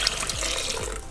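Three cups of water pour into a medium saucepan holding oats, a close, continuous gurgling splash with small burbles, no voices.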